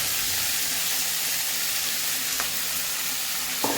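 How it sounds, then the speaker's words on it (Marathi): Fresh spinach dropped into a pan of golden-brown fried garlic sizzles loudly and steadily for Lasooni Palak, with a continuous hiss of frying and a couple of faint clinks of a spoon. "त्याच्यामध्ये मी आता पूर्ण पालक टाकते आहे."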